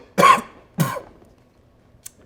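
Two harsh coughs close by, one right after the other, then quiet with a faint click.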